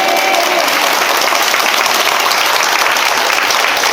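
A church congregation gives loud, dense applause that holds steady throughout without pause.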